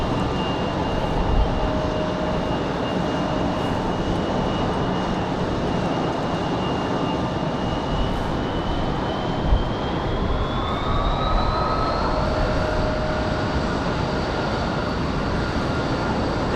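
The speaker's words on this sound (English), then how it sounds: "This CRJ is not as loud as the one we had earlier this afternoon that was down there." A CRJ regional jet's engines whine and roar steadily at Raleigh-Durham International Airport, a loud sustained turbine drone with a tone that rises in pitch partway through, and no voices.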